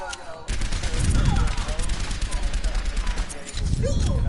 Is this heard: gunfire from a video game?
yes